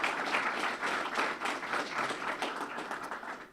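A roomful of people claps steadily throughout at the Guilford Community Fund annual meeting, a dense, even applause with no talking over it.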